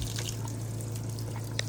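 Water running from a garden hose on a farm where animals drink from it: a faint, steady trickle with a few light drips over a low background hum, and no talking.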